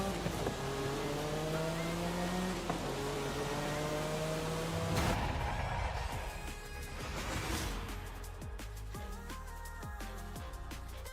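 Race car in Forza Horizon 5 sliding through a bend and braking hard on the handbrake, engine note dropping and shifting as tires scrub, loud and close, with a rough skid burst partway through.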